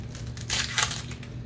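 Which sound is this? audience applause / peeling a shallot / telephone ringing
peeling a shallot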